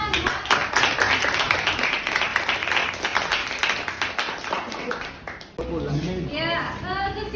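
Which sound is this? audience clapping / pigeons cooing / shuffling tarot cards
audience clapping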